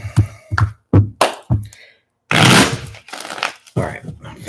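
Tarot cards shuffled by hand in a series of quick riffling bursts close up, each burst short with brief pauses, followed by a longer, denser stretch of card noise.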